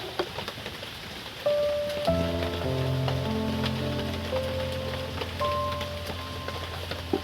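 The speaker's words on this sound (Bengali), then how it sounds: "বৃষ্টির কিন্তু শব্দ চলছে একটা।" Steady rain patters outside, with faint mechanical tones humming in the foreground.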